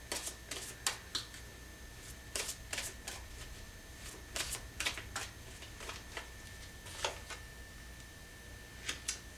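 Crisp, repeated flicks and riffles of tarot cards being handled and drawn from a deck, close and quiet, in irregular bursts of sharp clicks with no talking.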